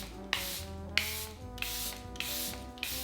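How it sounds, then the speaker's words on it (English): Charlotte Tilbury Airbrush Flawless setting spray misted onto a made-up face in several short bursts, each a soft hissing spritz with a sharp onset, spaced roughly every half second to second over a low steady background hum, with no talking. "So I like to go in with a bit of setting spray just to melt it in"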